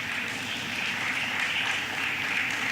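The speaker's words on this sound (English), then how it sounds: "give them a round of applause for me" An audience at a diabetes management event gives a steady round of applause, a continuous dense wash of clapping at even loudness throughout, heard alone without talk.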